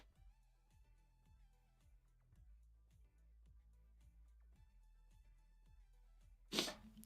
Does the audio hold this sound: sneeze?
yes